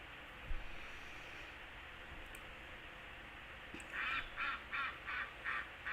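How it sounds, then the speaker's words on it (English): A duck outdoors gives a run of about five quacks in quick rhythm near the end, moderately loud over quiet background hiss after a faint thump early on. "The duck right on cue."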